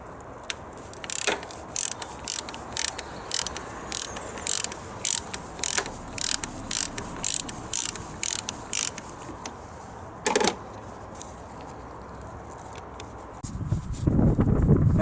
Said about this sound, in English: we'll remove the bolt for the reservoir, the antifreeze reservoir, your coolant